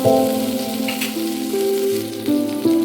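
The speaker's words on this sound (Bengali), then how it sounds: "এবার দিয়ে দিচ্ছি কেটে রাখা আদা, এবার দিয়ে দিচ্ছি কাঁচা লঙ্কা, দিয়ে দিচ্ছি ধনে গুঁড়ো" Ginger, green chili and coriander powder frying in a hot pan give a steady, dense sizzle throughout, with a faint tonal hum running underneath and no voices.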